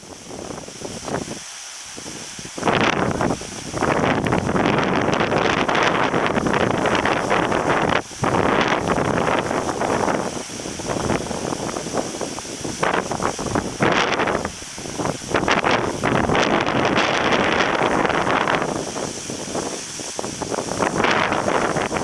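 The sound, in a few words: wind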